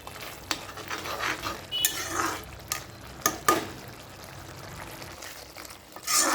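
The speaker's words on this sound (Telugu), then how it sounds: "ధనియా పౌడర్ కూడా వేసుకొని ఈ విధంగా బాగా కలుపుకోండి." A spoon scrapes and stirs tomato curry with added coriander powder in a pan on the stove, giving a run of uneven clacks and scrapes over a soft background hiss, close by.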